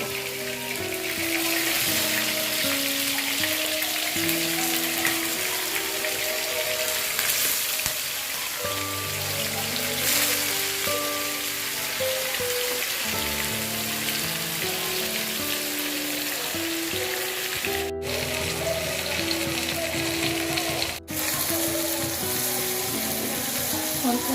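Salted shrimp sizzle steadily in hot oil for the whole stretch, a constant, loud, dense hiss with a melodic music track playing underneath.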